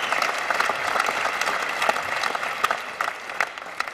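Comedy club audience applauding during a Maz Jobrani stand-up set, a lively crowd clapping with scattered louder individual claps poking through the steady roar.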